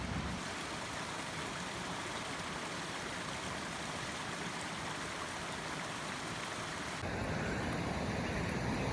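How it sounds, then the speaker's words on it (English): A small roadside waterfall along a highway gives a steady, full rush of falling water that stays constant throughout, with no talk. "Wow, look, a little waterfall."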